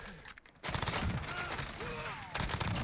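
Sustained automatic weapon fire in a Call of Duty match, loud and continuous after a short lull, with a brief dip and then another burst at the end.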